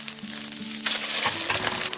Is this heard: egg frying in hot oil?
yes